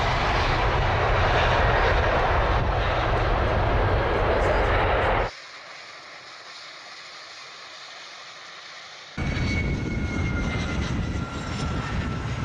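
Airplanes on the tarmac at Schiphol airport, a loud steady engine roar with a constant low rumble that drops away for a few seconds mid-clip, then returns just as loud.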